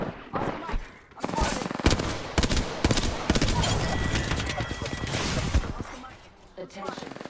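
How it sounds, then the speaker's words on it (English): Sustained automatic gunfire in the video game Apex Legends, loud rapid bursts of shots almost without pause, with in-game voice callouts mixed in. "I'm taking shots. Opening fire."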